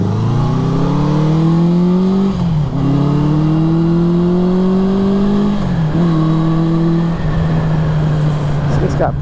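The engine of a 1973 Honda CB350 Four motorcycle runs loud and close. It revs up in several rising pulls, each dropping back to a steady idle between them, with no talk over it.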